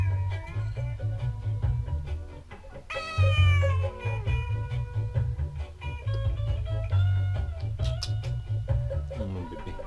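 A cat meows in a home kitchen, several drawn-out, rising and falling cries standing out over a steady, loud, low background hum.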